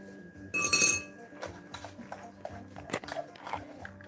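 Crunchy pork cracklings are bitten and chewed close to the microphone, a sharp initial crackle followed by irregular crisp crunches and soft chewing, with a faint clink of glass or cutlery in between.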